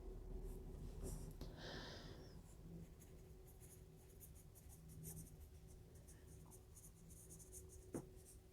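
Musgrave Test Scoring 100 graphite pencil laying down tone on paper, soft continuous scratchy shading strokes, close and quiet over a faint steady hum, with a sharp tap near the end.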